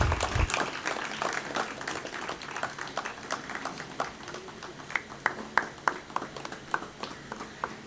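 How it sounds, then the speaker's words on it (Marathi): Audience at a pharmaceutical company's doctors' felicitation ceremony in 2021 clapping steadily for several seconds, with a few sharp individual claps standing out near the end. "टाळ्या प्लीज जोरात वाजवा जरा."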